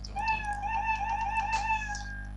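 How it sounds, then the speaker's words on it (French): A single drawn-out cat meow, clear and fairly close, over a low steady hum. "j'entends le son miaou"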